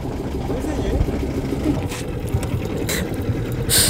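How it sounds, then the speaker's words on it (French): A sailboat's engine runs at idle as a steady low mechanical drone under nearby conversation on deck in the Caribbean. "tu veux que j'éteigne le moteur peut-être?"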